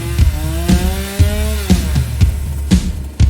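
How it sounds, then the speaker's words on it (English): A chainsaw runs in bursts close by, with revving whines and sharp repeated cutting surges, used as a horror story sound effect. "It was then that salvation arrived for Thomas, in the form of a chainsaw."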